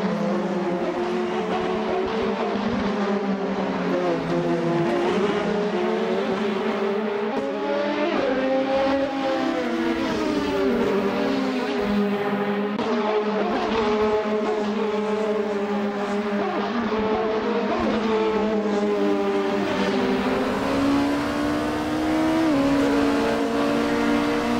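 Several 2013 Super GT 500 race cars from the Assetto Corsa racing game roar continuously at full volume, engines rising and falling through gear changes and revs with layered tones of multiple cars, no talking.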